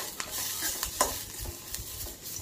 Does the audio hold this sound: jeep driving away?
no